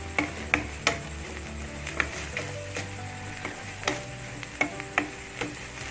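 Southern Thai-style pork belly with shrimp paste, chillies and kaffir lime leaves stir-fries in a pan: a soft background sizzle broken by a series of sharp spatula taps and clicks at irregular intervals.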